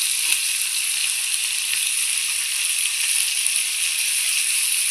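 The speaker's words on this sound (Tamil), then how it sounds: "தோசைக்கல்ல வறுத்தா தான் நல்லா இருக்கு." Fish fries on a dosa griddle with a steady, bright sizzle that holds constant and close throughout, with no talking.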